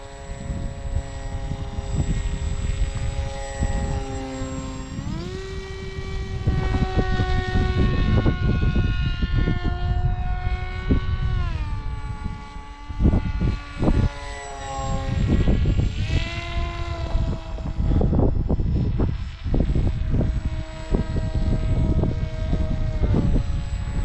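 Electric foam combat wing model plane flying on a windy day, its motor whining steadily with rising and falling pitch sweeps as it passes, close and loud throughout, with wind buffeting underneath.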